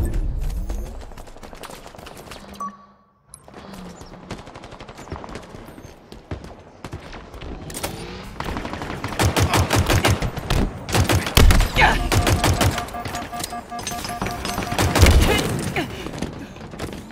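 Gunfire in a Halo video game live-fire exercise, a dense run of rapid shots and impacts, loud and close, building in intensity with heavy thuds and metallic clatter throughout.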